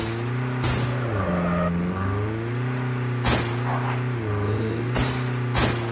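Car driving in the video game Call of Duty Mobile, a steady engine drone that rises and dips as it shifts and revs, with sharp gunshot-like bursts cutting through now and then.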